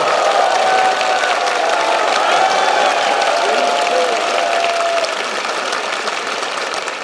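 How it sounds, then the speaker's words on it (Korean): Crowd applause at a political rally in a large hall, a dense steady wash of clapping and murmur sustained throughout, loud and continuous with slight fading toward the end. "박수 한번 주십시오"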